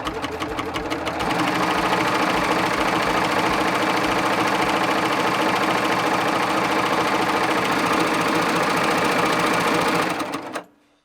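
A Baby Lock serger sews a cover stitch, a loud, steady, rapid mechanical whir that runs unbroken for about ten seconds and then stops abruptly.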